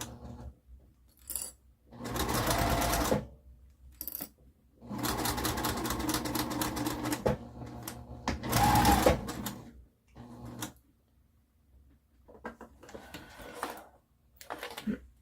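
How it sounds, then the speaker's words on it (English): A sewing machine stitches fabric pieces for a cube pincushion with a quarter-inch seam, whirring in several close, loud bursts separated by pauses and small clicks. "you're just gonna sew them down with a 1/4 inch seam allowance"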